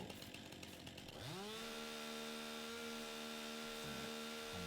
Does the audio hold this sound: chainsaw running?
yes